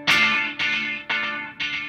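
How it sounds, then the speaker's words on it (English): Four distorted delay repeats from a Boss SDE-3000EVH, its input clipping slightly, each repeat a gritty burst that fades before the next in a steady rhythm, close and alone. "There, I clipped a little bit, so my repeats are going to have a little bit of distortion on them."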